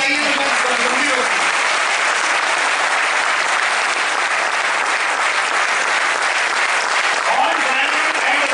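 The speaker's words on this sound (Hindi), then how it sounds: "ये तालियां अगर मैं आपको कहता कि अपने बारे में बजाइए" Loud, dense applause from a large audience at a Vestige 10th anniversary event in Mumbai, a continuous roar of clapping that holds steady throughout, with faint voices mixed in.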